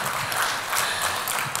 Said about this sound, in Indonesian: boleh kita berikan tepuk tangan untuk seluruh panelis sesi kedua Bapak Ibu